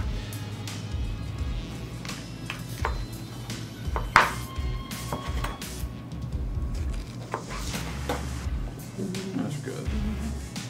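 A kitchen knife chops vegetables into chunks for a crock-pot beef chili, making intermittent knocks of the blade on the cutting board beneath steady talk.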